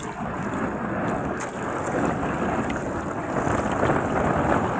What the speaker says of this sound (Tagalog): Ang lakihan ng mga alon guys malakas ang hangin